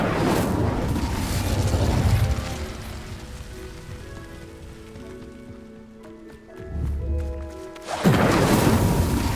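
Incendio fire spells blast in Hogwarts Legacy: loud, roaring fiery bursts hit at the start, midway and near the end, with quieter, ringing magical tones between them.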